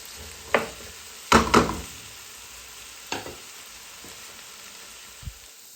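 Close-up clanks and scrapes of a utensil against a pan frying okra come in a few sharp bursts over a faint background hiss.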